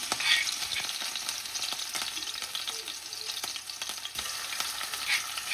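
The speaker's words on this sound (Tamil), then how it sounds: "இப்போ பார்த்தீங்கன்னா இஞ்சி உள்ளி பேஸ்ட்டை வந்து நான் இதில் சேர்க்குறேன்" Ginger garlic paste frying in a pan for a mince-meat curry, giving a steady close sizzle with scattered crackles and occasional stirring scrapes, with no voices.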